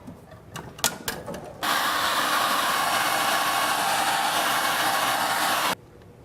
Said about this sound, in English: Blow dryer in here.